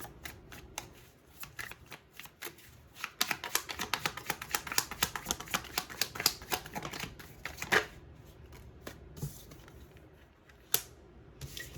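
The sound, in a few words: shuffling tarot cards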